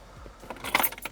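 Car keys for a Ford F150 jangle up close in a short metallic rattle of a few quick clinks, loudest toward the end.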